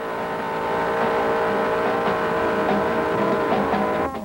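A heavy 4,000-pound GTX car driven hard at about 50 mph, its engine a loud, steady roar with dense rumble throughout and a brief drop near the end, no talk over it.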